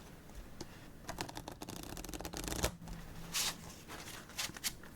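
A Stardust deck of playing cards is shuffled up close, soft riffling and flapping bursts that are fairly quiet, with no talking.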